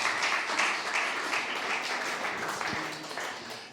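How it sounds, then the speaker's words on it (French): Clapping fills a French awards ceremony hall as the year's illustrator is invited up, a dense, even wash of applause from a seated audience lasting the whole few seconds. "On peut l'applaudir."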